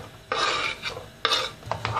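Chopped onions tipped into a pan of hot sunflower oil, giving two bursts of bright sizzling, the second shorter and followed by lighter crackle, close and without talk.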